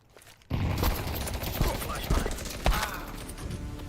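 A grenade goes off in a first-person shooter: a sudden loud blast, then a dense stretch of rapid gunfire and impacts that carries on to the end, with players talking over it.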